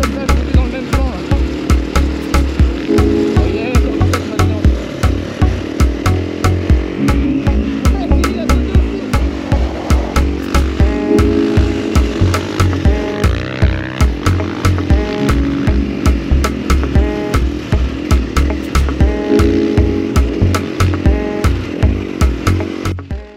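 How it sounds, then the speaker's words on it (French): Rally motorcycle engine straining to pull free of deep riverbed sand, a loud, close, throbbing rhythmic chug pulsing steadily throughout with rising revs and a voice briefly heard over it. "pour que la moto elle sorte du sable"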